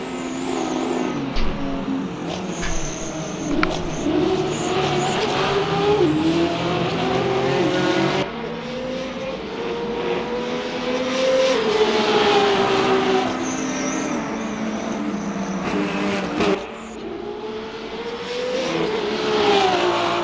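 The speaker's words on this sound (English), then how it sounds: "Again, always a very nice engine note from the Alpine." Alpine race car from the Le Mans Ultimate racing game at the 24 Hours of Le Mans, its engine note rising and falling through gear changes with a sustained, loud howl and occasional shifts, no talk over it.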